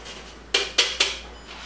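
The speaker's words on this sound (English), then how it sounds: "And then we just mix it all together." Three quick clinks of a utensil against a bowl while potato gnocchi dough is mixed, crisp and close, with quiet pauses between them.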